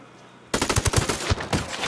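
Automatic gunfire from the video game Ghost Recon Wildlands: a loud, close burst of rapid shots that starts suddenly and keeps going without a break, and no one talks over it.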